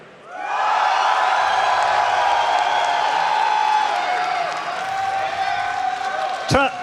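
A large crowd at a StarCraft esports match roars and cheers loudly for several seconds, sustained whoops and shouts filling the space, then fading slightly before a sharp burst at the end.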